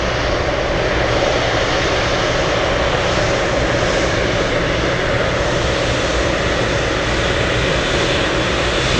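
A GE90 jet engine on an aircraft roars continuously at close range, a loud, dense, unbroken broadband rumble with no voices.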